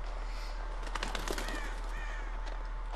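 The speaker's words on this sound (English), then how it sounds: "Crows." Crows caw in the horror video game Until Dawn, several rough calls repeating through a steady, noisy game ambience at moderate loudness, with no talk over them.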